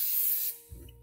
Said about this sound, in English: I always like to go light on the spray.